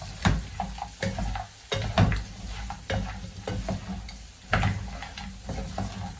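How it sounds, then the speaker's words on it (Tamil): Fried chicken pieces for chili chicken are tossed and stirred in a sizzling pan, with repeated scraping strokes in an irregular rhythm over the frying, close up and without talk. "இப்போ நான் இந்த பொரிச்ச இறைச்சியெல்லாம் இதுக்குள்ள போட போறேன்."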